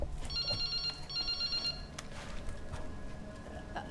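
A phone rings in the Resident Evil Requiem video game, two bursts of a high electronic trill, with a low ambient hum and scattered clicks behind it.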